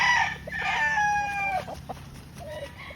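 A B-boy line gamefowl rooster crows loudly and close by, one drawn-out cock-a-doodle-doo filling the first second and a half, followed by quieter clucks and scratchy farmyard background.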